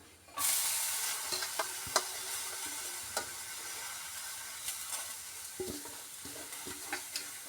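Spinach and ground paste are stirred in a hot pan: a soft, steady sizzle is broken by scattered scraping strokes and light clinks of the spoon against the pan, close and unaccompanied by talk.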